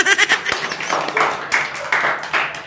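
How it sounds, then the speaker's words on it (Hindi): A group claps by hand in a Rajasthani Hadoti comedy scene set around a school, with uneven bursts of clapping mixed with voices talking at the same time. "ताली बजाओ।"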